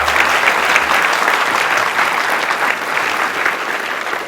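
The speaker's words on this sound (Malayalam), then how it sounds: "നിറഞ്ഞ കയ്യടികളോടെ വരവേറ്റു സദസ്സ്" A theatre audience in the UAE applauds loudly after a live stage drama, with sustained dense clapping from a full crowd at close range.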